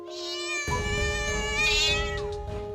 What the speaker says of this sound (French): Madame Kanak, je vais nourrir ce chat, il a l'air vraiment affamé.